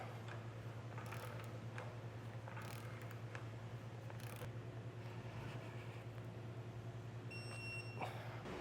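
A 1.5 inch socket on a ratchet torques down the nut of a Stealth hidden receiver hitch on a 2019 Land Rover, giving faint, repeated ratcheting clicks in a loose rhythm over a low background hum.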